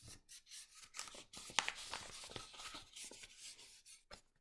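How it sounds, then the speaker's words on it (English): Paper craft pieces being rubbed down by hand to stick them in place while making a blue dinosaur, giving a soft, continuous close-up rasping and brushing with a few sharper scuffs. "So I'm going to rub it all over to get it stuck on."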